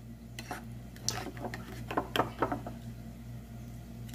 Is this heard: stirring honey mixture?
yes